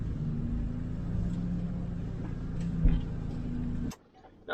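A Gator utility vehicle engine runs at a steady loud idle with a brief rise in throttle, then cuts out abruptly, leaving near silence.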